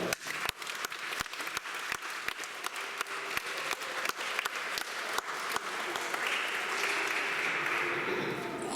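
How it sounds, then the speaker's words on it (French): A church congregation at a Sunday service applauds the musicians with sustained clapping that starts with distinct individual claps and swells into a dense, even wash, heard from within the room. "On peut les applaudir."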